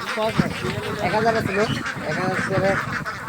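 Ducks in a rural village, likely a group being bought, call with repeated nasal quacks and honks in overlapping bursts, close and fairly loud, with people talking in the background.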